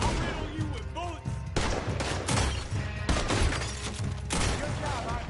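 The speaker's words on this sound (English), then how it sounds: "I'll riddle you with bullets." Gunfire in Red Dead Redemption II, with dense overlapping shots and loud bursts running through the whole stretch over a busy game soundtrack.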